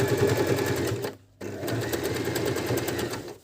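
A Janome Q33 domestic sewing machine stitches a seam with a steady rapid whirring run, pauses briefly for about a quarter second, then resumes stitching at the same pace, close and clear with no talk.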